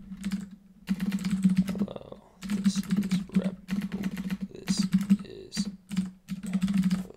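Rapid clicking on a computer keyboard, bursts of keystrokes with short pauses over a constant low hum, and someone speaks briefly.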